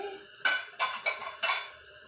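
Dishes and pans clatter in a home kitchen while sugar cookie dough is being mixed, with four sharp bursts of clinking and scraping in quick succession, close and fairly loud, with no talking.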